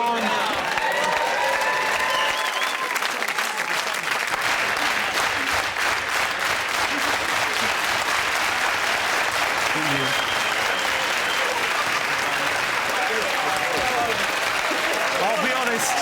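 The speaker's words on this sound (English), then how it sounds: "you started that fast clap way too soon" A studio audience at a comedy panel show claps fast and continuously, dense loud applause with some cheering that runs throughout, while voices talk underneath.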